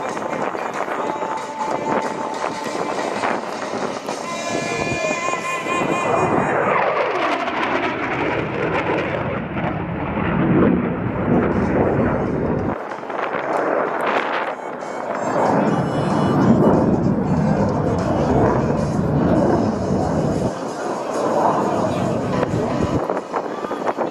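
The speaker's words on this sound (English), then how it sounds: "Ladies and gentlemen, from the right, Jackal and the Hornet high-speed pass." Jackal and a Hornet jet make a high-speed pass at the New Orleans airshow, a loud sustained roar that swells and rumbles with wind buffeting, while an announcer talks over it.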